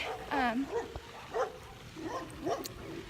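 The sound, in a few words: dogs barking, a golden husky and a sheepdog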